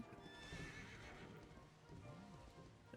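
A horse in the Dragon Quest 11 video game gallops with rapid clip-clop hoofbeats and lets out neighing whinnies, game audio heard alone over a soft rain-like background.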